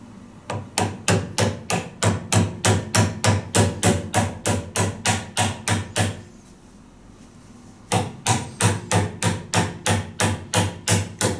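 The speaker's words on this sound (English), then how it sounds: "I'm tapping it on against the lock nut" A CNC shaft coupler is tapped onto a lock nut in a steady run of sharp, evenly spaced knocks, about two per second, pausing briefly midway before resuming at the same rhythm, loud and close.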